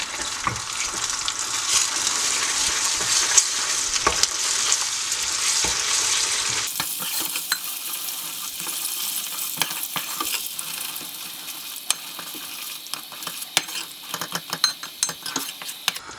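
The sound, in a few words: butter melting and stirred into caramelized sugar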